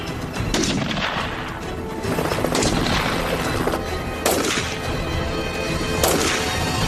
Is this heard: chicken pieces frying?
no